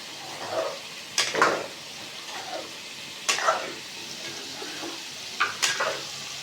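Onions with salt, red chilli and garam masala sizzling in a kadai, with bursts of stirring and scraping against the pan every second or two, fairly faint.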